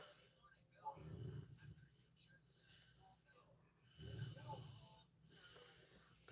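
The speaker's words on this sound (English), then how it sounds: "Why are you snoring?" A person snores at a live vintage jewelry sale, two soft, low rasping breaths a few seconds apart, faint and in the background.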